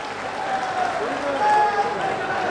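An audience at a public government event in Mahoba applauds to welcome the chief minister, a dense wash of clapping that holds steady throughout, with a voice over the loudspeakers on top.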